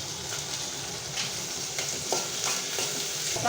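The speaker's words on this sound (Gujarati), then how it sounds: "નાખીને ભીંડો આપણે વઘારી નાખીશું." Okra tempering with garlic in hot oil, a dense continuous sizzle close by with a few sharper crackles and stirring sounds.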